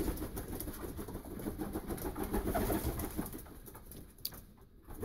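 A breeding pigeon coos softly and repeatedly, close by, in a low murmuring rhythm against faint background noise, with no voices.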